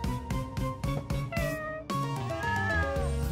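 A cat meows repeatedly and clearly up close, with a quick string of short mews followed by a few longer, drawn-out meows.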